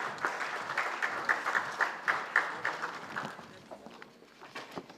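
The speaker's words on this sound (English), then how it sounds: "Can we have a huge round of applause, ladies and gentlemen?" Audience applause in a hall at an auto retail conference inaugural session, a burst of brisk rhythmic clapping from many hands that peaks early, then thins and fades toward the end.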